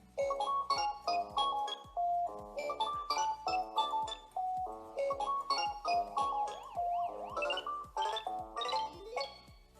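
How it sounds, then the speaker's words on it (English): A bright, electronic arcade-style Pac-Man ringtone plays alone on a OnePlus Nord 2 phone, a rapid chiptune melody of bouncy blips and warbling tones repeating loudly for several seconds. "we've got a Pacman ringtone"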